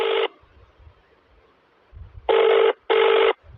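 A telephone rings in short electronic bursts: one burst at the start, then a pause with faint low rumbling, followed by two more bursts close together.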